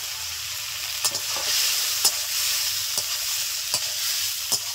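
Home-grown okra fried in a spiced onion, ginger and cumin masala crackles with a loud, steady sizzle, punctuated by crisp, evenly spaced clacks from stirring, with no talking.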